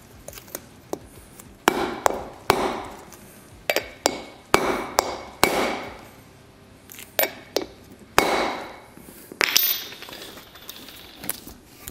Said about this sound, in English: Now I just need a hammer.